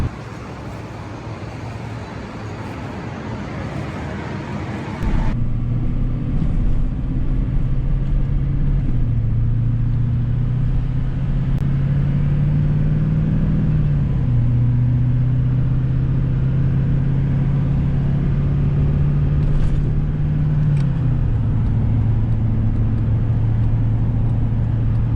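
An LBZ Duramax diesel swapped Suburban cruises on the highway at about 68 to 70 mph and 1,600 rpm, giving a loud, continuous low engine drone under road and wind noise, with the pitch easing up and down slightly.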